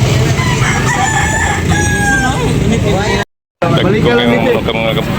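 Roosters crow repeatedly at a busy chicken market in Carbon, Cebu City, their drawn-out calls overlapping amid a steady din of crowd chatter and background voices.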